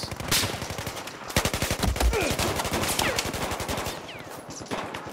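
Rapid automatic machine-gun bursts mixed with sharper single sniper shots in the Battlefield 4 video game, a loud, dense run of gunfire filling the whole stretch with no talk over it.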